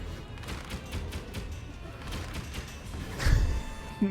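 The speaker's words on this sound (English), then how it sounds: "I'm literally hearing fireworks right now" Fireworks going off outside on New Year's, heard as a steady run of distant crackling pops and bangs in quick succession, with one closer, louder boom toward the end.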